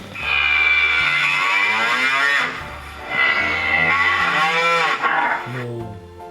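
A cow moos loudly in a long, drawn-out call, then lows again in a second extended moo, close and clear with a faint electronic tone underneath.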